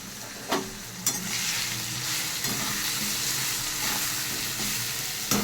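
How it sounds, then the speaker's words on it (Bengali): Spices sizzle and fry with a small tomato, chili, cumin and turmeric in a pan for hilsa fish curry, a steady, close hiss broken by a few sharp stirring clicks and spatters, with no one talking. "মশলাটা বেশ ভালো করে কষা হোক।"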